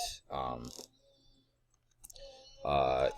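Computer mouse clicks while working in a programming tutorial: faint, brief clicks fall in a pause between stretches of someone talking.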